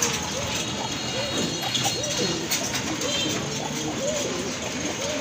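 Pigeons coo softly and repeatedly nearby, low rounded calls rising and falling in a steady series.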